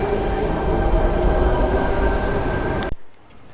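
A train on a busy station platform gives a loud, steady rumble with a high whining tone over crowd noise. The sound cuts off abruptly near the end.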